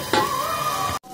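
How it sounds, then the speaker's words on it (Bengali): Fish frying in a pan at home, a close, steady sizzle with a sharp tonal note running through it, cut off abruptly near the end. "এখানটাতে মাছ ভাজা হচ্ছে। মা মাছ ভাজছে।"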